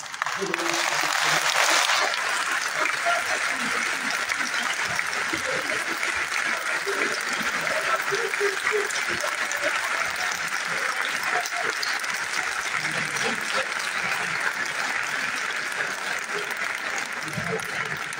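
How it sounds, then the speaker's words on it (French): Sustained, dense audience applause at the closing session of Mali's national assemblies for refoundation, a loud burst at the start that settles into steady clapping lasting the whole stretch, with voices faintly audible beneath it. "Merci pour ces applaudissements bien mérités."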